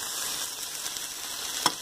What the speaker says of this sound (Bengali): এবার এর মধ্যে শুকনো মশলাগুলো দিয়ে দিন, শুকনো লঙ্কাগুলো, জিরেগুলো, ধনেগুলো, হলুদ আর লবণ